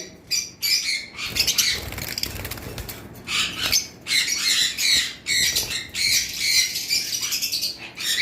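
Caged pet birds such as cockatiels, lovebirds and budgerigars offered for sale squawk and chirp in loud, close, repeated bursts, with short pauses between them.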